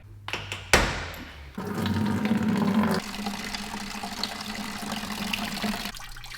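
Fuel pours from the drain plug of a car's fuel tank on a 700+ WHP Mitsubishi Evo build, a steady splashing, gurgling stream into a container that starts after a few sharp clanks, runs close and continuous for several seconds, then stops.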